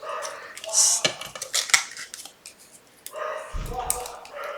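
A dog barks in the background of a home crafting space while a person talks close by, with clattering of dishes and utensils mixed in.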